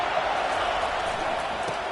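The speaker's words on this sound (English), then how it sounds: "this crowd trying to help keep them there" Steady, dense crowd roar fills a stadium in the College Football 25 video game, a continuous wash of noise without breaks that stays level throughout.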